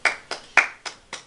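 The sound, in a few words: hand clapping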